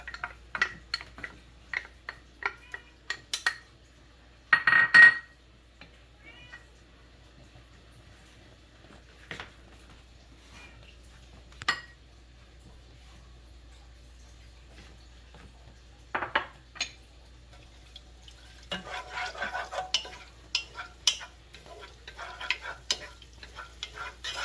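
Garlic frying in a pan for chicken arroz caldo: scattered utensil clinks and stirring scrapes over a quiet background, with a light, busier sizzle building in the last few seconds. No one speaks.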